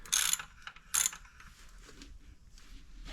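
A ratchet with a 14mm socket clicks on a Tao Tao DB10 dirt bike, two short loud bursts of rapid pawl clicks followed by quieter faint mechanical ticking, close by and without talk.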